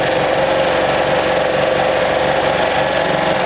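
A sewing machine stitching shirt chest pocket seams runs at a loud, steady, rapid mechanical chatter, close by and continuous.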